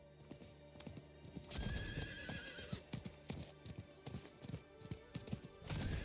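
Horse hooves clip-clop steadily in Diablo IV as the mount trots, with whinnies and neighs rising over the rhythmic hoofbeats and no talk.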